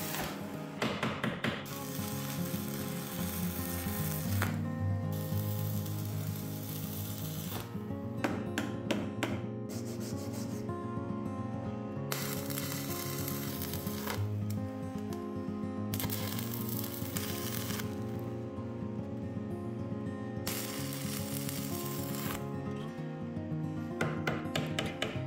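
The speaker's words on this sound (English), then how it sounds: "So let's weld it up, see how it goes." Welding repairs on a tractor's fenders, a crackling, buzzing arc that starts and stops in a series of bursts of several seconds each, close and loud.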